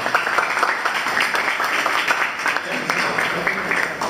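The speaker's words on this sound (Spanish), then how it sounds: "un fuerte aplauso para todos" Loud, steady applause fills a lecture hall for a general chemistry class, many hands clapping densely and continuously with no voices on top.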